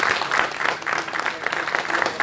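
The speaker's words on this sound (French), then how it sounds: "je vais un bel applaudissement pour vous" An audience at a church pastors' anniversary gathering gives a hearty round of applause, close and loud, with dense clapping that swells in uneven pulses for a couple of seconds.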